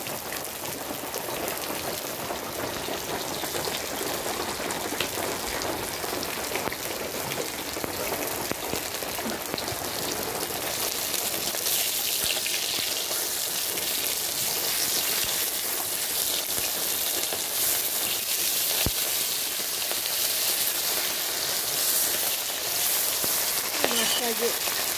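Heavy rain falling steadily, a dense continuous hiss and patter of drops on surfaces that holds evenly throughout, close and loud with no talk.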